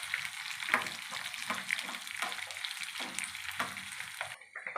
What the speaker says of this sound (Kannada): ಒಣಮೆಣಸಿನ್ಕಾಯಿ, ಚೆನ್ನಾಗಿ ಈ ರೀತಿ ಬೆಳ್ಳುಳ್ಳಿ ಎಲ್ಲ ಘಮ ಬರಬೇಕು, ಆ ರೀತಿ ಫ್ರೈ ಮಾಡ್ಕೊಳ್ಳೋಣ.